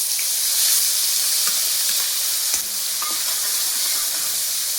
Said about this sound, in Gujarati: તેલ ને ઘી થઈ ગયું છે ગરમ, હવે નાખવી આપણે હિંગ, પછી નાખી દેવી આપણે કાંદાની પ્યુરી